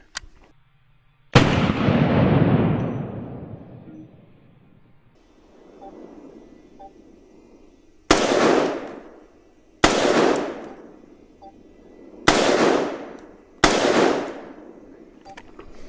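Five gunshots fired at pests outdoors during a trail outing, each a sharp, loud, close report with a long ringing decay, spaced a couple of seconds apart, the first standing alone before a later cluster of four.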